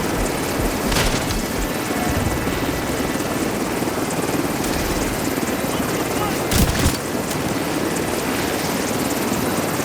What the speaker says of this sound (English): We got a helicopter coming in.